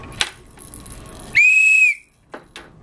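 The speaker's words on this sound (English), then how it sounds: "think it's a whistle" A single shrill toy whistle blast sounds for about half a second, rising slightly then steady, between rustling and clatter.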